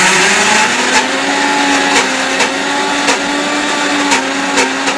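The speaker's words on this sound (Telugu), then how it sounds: "మిక్సీ పట్టుకుందాము" Mixer grinder whirring as it grinds soaked, drained black-eyed peas into batter for crispy vadas, a loud steady motor whine close by with brief pulses and knocks of the jar.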